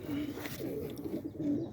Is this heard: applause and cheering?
no